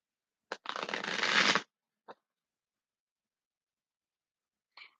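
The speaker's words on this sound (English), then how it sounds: "Shuffle 2 more times for good measure." A deck of tarot cards is shuffled by hand: one brief riffle of about a second, bracketed by a few sharp taps and clicks of the cards, close and quiet, with silence between the sounds and no talk.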